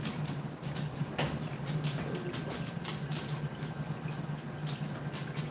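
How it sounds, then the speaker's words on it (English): Liquid bubbling and gurgling up through a gap in a Minecraft build, a steady low watery churn with scattered drips and clicks running throughout, alone with no talk. "Oh, look, see, we got liquid. It's forcing its way through here, man."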